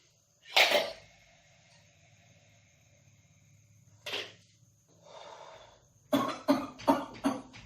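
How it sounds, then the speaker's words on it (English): A single cough, then another a few seconds later, followed by a quick run of four coughs close to the listener in a quiet room, done deliberately after a spirometer breathing exercise. "If we cough like this, the lung capacity maybe increases."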